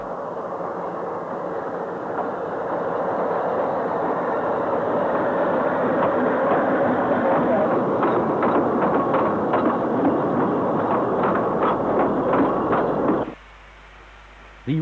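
Fairlie steam locomotive climbing the grade to Tannebul on the Cambrian Coast, a steady loud chuffing and rolling rumble with rhythmic beats building over about thirteen seconds, then cutting off abruptly.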